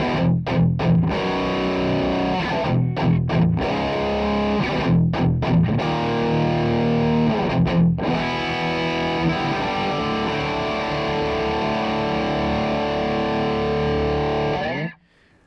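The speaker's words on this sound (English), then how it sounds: "let's pick up with the distorted tones you heard earlier." Heavily distorted electric guitar chords through a tube amp ring out loud and sustained, with brief choppy stops early on before long held tones that cut off abruptly.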